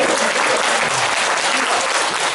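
A burst of audience applause at a candidate's press conference in a city hall meeting room, steady and fairly loud for a couple of seconds.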